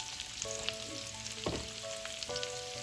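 Large pieces of red and green capsicum and onion fry in a pan over medium-high heat with a constant sizzle. Faint tonal music plays underneath, with a few scraping stirs.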